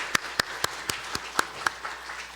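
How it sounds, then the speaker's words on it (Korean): Sparse, separate hand claps in a church congregation during a Sunday worship service, about eight distinct claps spaced evenly over a couple of seconds, fairly quiet and thin, with no voices. "우리 하나님 앞에 영광의 박수 올려드리겠습니다"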